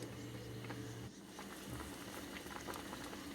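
Cucumber and colocasia curry with chilli and turmeric bubbles steadily in a pot, a continuous close boil with soft popping, alone with no talk.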